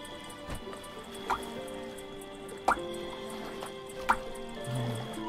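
Water drips and trickles while a jug is filled in the video game The Supper, with a few distinct drip plinks spaced over a quiet, faintly humming background.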